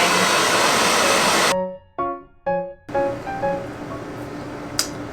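A Little Paws Petietec Handily2 hands-free pet dryer blows a loud, steady rush of air while drying a dog, then shuts off, leaving a few short whirring bursts as it winds down before quiet.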